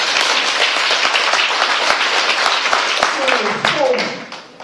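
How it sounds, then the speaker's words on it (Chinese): Indoor audience applauds a chairman and a teacher at a gathering, dense sustained clapping from many hands that fades out near the end. "所以我们再给我们王董事长、王老师掌声"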